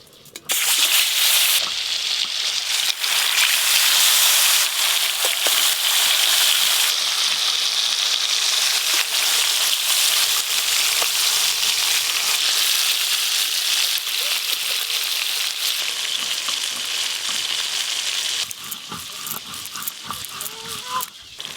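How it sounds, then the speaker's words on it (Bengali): Pieces of fresh stingray sizzle in hot oil in a home kitchen, a steady, loud, broadband frying hiss that holds for about twenty seconds, with small pops and crackles toward the end. "এবার শঙ্কর মাছগুলো ভেজে নেব"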